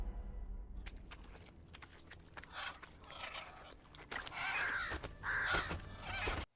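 Crows caw in the Mortal Kombat Legends: Scorpion's Revenge animated film, with repeated harsh calls over a busy background of footsteps and rustling, the loudest caws coming near the end.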